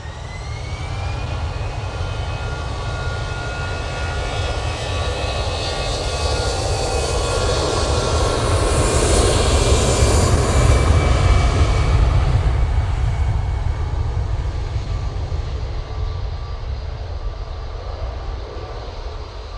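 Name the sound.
Air Transat Airbus A321LR jet arriving from Toronto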